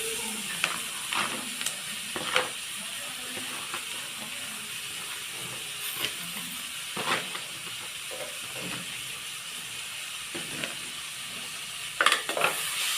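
Vegetables sauté quietly in a pan, a soft steady sizzle under occasional sharper scrapes and taps of a spatula, fairly faint and close.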